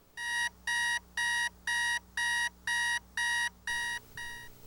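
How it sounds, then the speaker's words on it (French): An alarm clock rings in nine even electronic beep bursts, each roughly a third of a second with short gaps between them, fairly close and clear against a quiet room hum. "Quand le réveil sonne"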